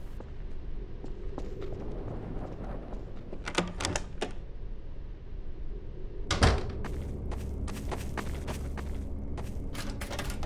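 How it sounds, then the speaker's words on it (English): Typewriter keys clacking inside a Garry's Mod apartment map, scattered bursts of mechanical strikes over a low room hum, with one louder thump partway through. "Back to typewriter, man."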